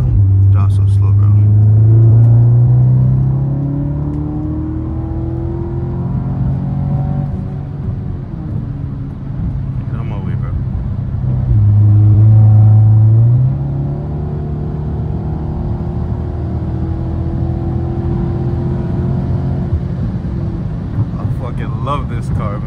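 An Audi S3 with a stage 2 tune drives on the road, its engine droning low and rising in two strong acceleration pulls, heard from inside the cabin with road rumble between.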